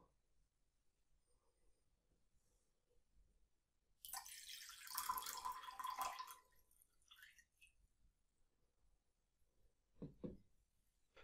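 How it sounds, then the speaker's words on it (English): Water pours from a glass into a bowl in a quiet room, making a few seconds of close splashing and trickling, followed by a short second splash. "Pour the water from the cup into the bowl."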